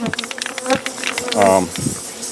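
Insect buzzing drifts in and out alongside scattered noises and a brief voice-like tone, close and moderately loud.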